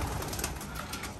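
Pedigreed foreign-breed homing pigeons on a rooftop coo softly in short, repeated bursts over a steady wash of outdoor noise, fairly close to the microphone.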